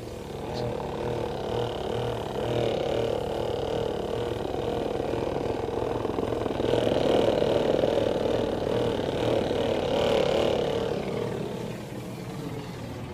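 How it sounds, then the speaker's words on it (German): A small motor of a Birchmeier backpack sprayer hums steadily close by, its pitch swelling briefly midway before settling back to a steady drone. "Hört ihr den Motor der Spritze?"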